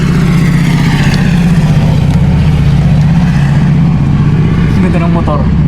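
An old World War II-era motor engine runs close and loud, a steady low rumbling drone that holds even throughout, with people talking over it.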